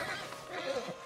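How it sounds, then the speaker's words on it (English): A horse whinnies in Red Dead Redemption 2 during a stallion-leading scene, a short close neigh of about a second that rises and falls in pitch with faint hoof and game ambience around it. "Javier, you're gonna lead the stallions"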